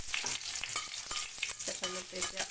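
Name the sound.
dry red chillies frying in oil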